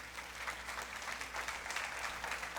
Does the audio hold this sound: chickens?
no